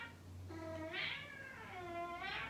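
A cat sitting on someone's lap gives two drawn-out, rising and falling meows close to the microphone over a low indoor hum, with no talk.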